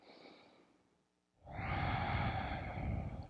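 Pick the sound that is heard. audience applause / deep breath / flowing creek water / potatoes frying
deep breath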